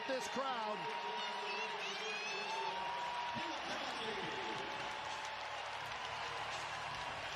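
Basketball arena crowd roaring and applauding after a late-game finish, a steady wall of noise with whistles and shouts, heard under commentator talk.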